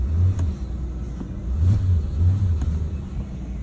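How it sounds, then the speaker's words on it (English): A 2008 Mercedes-Benz S550 W221 with the accelerator floored gives several deep, rumbling engine revs that rise and fall in surges, close and fairly loud, with no talking over them. "look, I'm flooring it right now"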